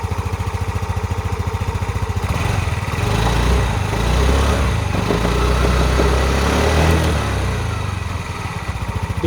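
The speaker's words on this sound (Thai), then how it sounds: "เดี๋ยวลองมาฟังเสียงเครื่องยนต์กันนะครับ" A Yamaha Filano fuel-injected scooter engine idles with a steady, rapid putter, rising slightly in the middle and settling back down, close and continuous throughout.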